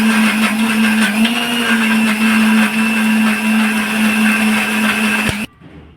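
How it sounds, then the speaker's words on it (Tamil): A mixer grinder blending spinach with a little water whirs loudly and steadily for several seconds, its motor humming at a constant pitch before cutting off abruptly near the end. "அரைக்கிறதுக்கு நம்ம மிக்ஸி ஜாரில் போட்டுக்கிட்டோம்"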